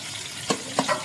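Small local guda chanda fish fry in hot oil, a brief close sizzle with a couple of soft stirring knocks.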